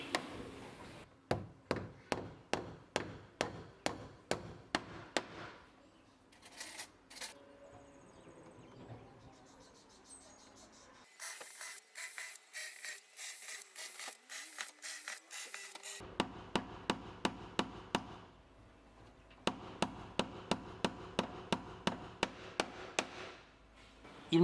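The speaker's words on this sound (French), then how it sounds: "Le Kumaru est tellement dur qu'il faut systématiquement le percer avant de clouer." Hard Kumaru wood cladding is nailed and pre-drilled on a timber-frame house, with bursts of rapid, sharp hammer blows separated by quieter stretches of high-pitched drilling.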